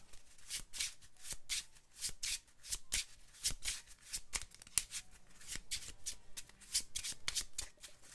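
Cards for the Legendary Encounters Alien deck-building board game are shuffled repeatedly up close, a rapid series of crisp riffling bursts with brief pauses between them.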